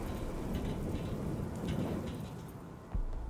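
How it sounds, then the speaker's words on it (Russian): Steady heavy rain pours in the video game Cyberpunk 2077: Phantom Liberty, a dense continuous hiss of drops hitting surfaces with a low rumble underneath and a brief thud near the end. "Ну и дождь."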